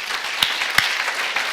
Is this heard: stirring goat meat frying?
no